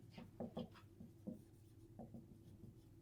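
A pen scratches across paper in short strokes and taps while someone works out elimination-method equations for a pair of linear equations, close and quiet with brief pauses between marks.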